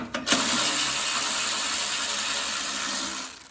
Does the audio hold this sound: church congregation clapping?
no